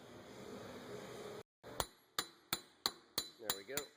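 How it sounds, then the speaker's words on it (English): Sharp metallic hammer taps on the rear axle of a 2009 Subaru Outback Legacy to free the wheel bearing hub assembly, about eight distinct ringing strikes in a steady rhythm, close and loud after a brief pause. "give a few taps with a hammer"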